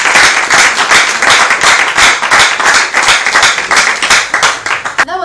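An audience at a university air-pollution debate applauds loudly and near, with many hands clapping in a rhythmic, slightly pulsing burst that cuts off as a voice begins at the very end.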